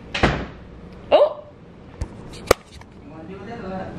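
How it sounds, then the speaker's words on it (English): A door being closed indoors: a sharp wooden thud near the start, a creaking swing and knock, then a small tap and a final crisp slam, close and loud in a quiet room. "she done closed the door, y'all."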